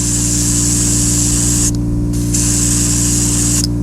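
Aerosol gold paint sprayed onto slot car wheel rims in close bursts, a steady loud hiss that cuts off briefly twice before resuming, over a constant low hum.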